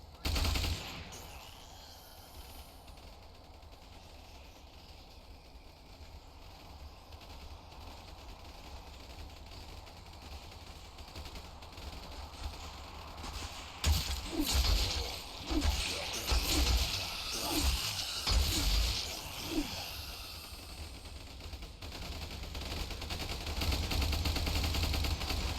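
Gunfire in the Ultimate Epic Battle Simulator video game: rapid bursts of shots over a dense, roaring battle din, loud and crowded, with the firing clustered in the middle stretch and no talking.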